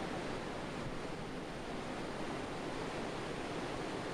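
The Provo River flows in late spring as icy cold water, a steady broadband rush that is loud and close and lasts throughout without breaks, with no voices.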